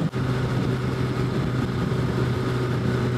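A 2021 Suzuki Hayabusa motorcycle engine drones steadily under way, a loud continuous low hum with steady harmonic tones, with no talking.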